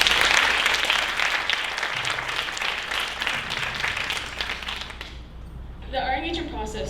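A Bharatanatyam Arangetram dance recital audience gives loud, dense applause that gradually fades, after which a voice begins speaking near the end.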